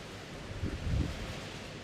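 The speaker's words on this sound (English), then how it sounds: "So windy." Strong outdoor wind buffeting the microphone, a low rumbling gust swelling briefly in the middle of a short, otherwise steady rush.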